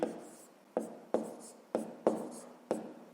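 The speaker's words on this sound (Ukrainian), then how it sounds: "Пишемо друга дія." Pen on paper writing out a fifth-grade math solution by hand: six short, sharp scratching strokes at an uneven rhythm, close and clear, with no talk.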